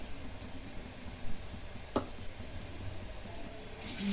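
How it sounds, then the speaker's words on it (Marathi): Onion with ginger-garlic paste sautéing in a pan, a soft steady sizzle with a few faint stirring scrapes near the middle and end, close and fairly quiet with no talk. "आता कांदा आपला चांगला भाजत आलेला आहे त्याच्यात आलं लसूणची पेस्ट टाकून घेते"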